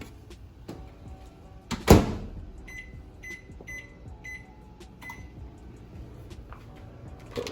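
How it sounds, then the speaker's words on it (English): A microwave door thuds shut and a few button beeps sound, followed by the low steady hum of the oven running nearby. "Put this in the microwave."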